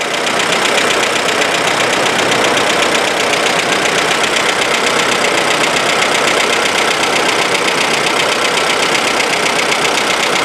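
A Fiat Stilo or Prisma engine runs in a repair workshop, a steady, loud, even mechanical drone with a fine rapid pulse throughout and no talk over it.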